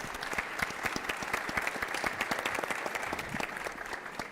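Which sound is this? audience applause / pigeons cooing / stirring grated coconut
audience applause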